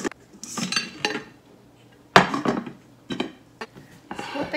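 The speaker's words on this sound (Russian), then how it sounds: "Накрываем тарелкой и вот так вот потрясти их между собой." Buffalo chicken wings in sauce are shaken between two covered plates, making several bursts of ceramic clattering and knocking, close and fairly loud, with short pauses between shakes.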